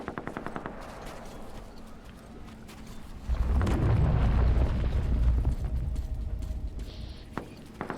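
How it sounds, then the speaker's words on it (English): Rapid machine gun fire in a video game with a supply truck nearby, a dense loud burst of shots that swells midway and rumbles on for several seconds before thinning out. "A lot of gunshots I hear."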